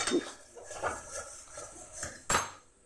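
A spice paste is being fried for a jackfruit and prawn curry, with a metal spatula scraping and clanking against the pan in a few separate bursts, one louder strike near the end, and no talking.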